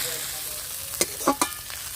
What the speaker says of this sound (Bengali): ঘ্যাটকোল সুন্দর করে ভেজে নিয়েছি দেখো কত সুন্দর ভাজা হয়েছে